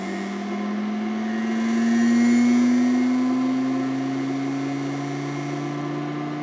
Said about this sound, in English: the motor started to turn